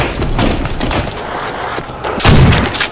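Dense, loud bursts of gunfire from World at War zombies mode rattle almost continuously, with a heavier, booming cluster of shots near the end.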